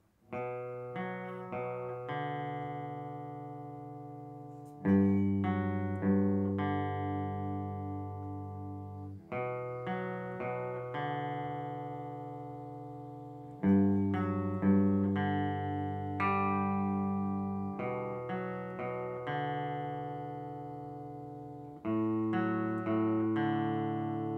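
Clean electric guitar notes on open strings, including the open A, ring out in a slow repeating riff, each phrase starting with a strong pluck and decaying, with a slight effect on the tone.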